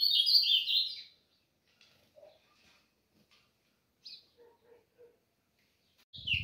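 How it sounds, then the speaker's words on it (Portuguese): Caged songbirds, a golinha and an azulão (blue grosbeak), singing outdoors: a bright burst of chirping warble at the start, a few faint short calls in between, then another sharp burst of song at the end. "Isso aqui é um vídeo só pra mostrar a vocês um pouco dos passarinhos cantando"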